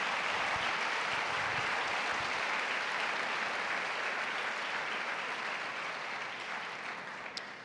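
A church congregation at a camp gathering bursts into loud, dense applause that fills the space continuously for several seconds, fading slightly toward the end.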